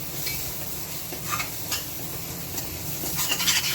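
Ground masala paste of roasted onion, garlic, coconut and ginger sautéed for chicken rassa gravy, a dense continuous sizzle with a few soft spatula scrapes, fairly close and steady, no voices.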